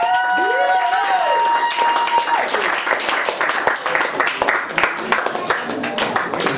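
Audience applause and scattered cheers for a bassist at a live music performance in a small cafe, sustained dense clapping throughout, with a voice rising briefly over the crowd at the start.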